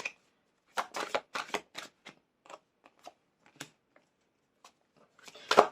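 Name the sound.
shuffling a tarot card deck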